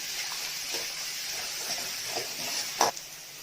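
Onions with ginger garlic paste frying in hot oil, a steady soft sizzle throughout with a few faint stirring scrapes and one brief louder clatter near the end, without any voices.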